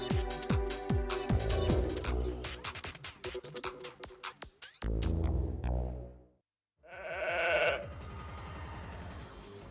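Sheep bleating loudly in a rapid series of wavering calls, a brief pause of silence, then another long bleat near the microphone.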